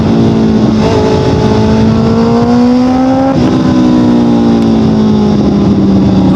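A motorcycle fitted with an Austin Racing exhaust runs loud and close, its engine drone rising and falling as it revs through changing pitches, with continuous roar and no distinct pops standing out.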